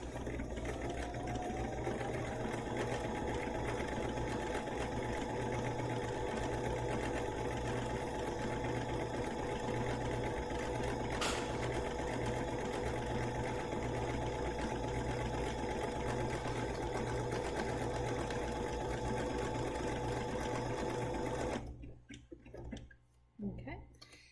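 BERNINA sewing machine stitching fabric, a continuous close motor whir with rapid needle clatter running steadily for about twenty seconds before stopping, with a voice talking over it.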